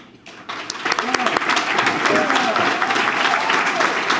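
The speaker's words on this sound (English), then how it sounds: "Big round of applause" Applause from a ceremony audience honoring standing singing cadets, building after a brief quiet start into sustained clapping with some voices mixed in.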